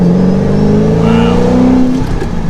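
2005 Ford GT supercharged engine pulling hard in fourth gear from inside the car, a loud close roar rising smoothly in pitch as it revs up.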